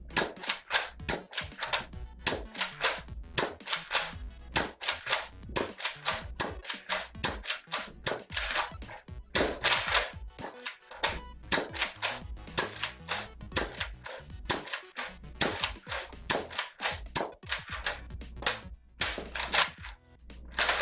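A Nerf-compatible blaster fed from a 22-round banana magazine fires foam darts in a long rapid string, sharp close clacks and thumps repeating steadily with brief gaps.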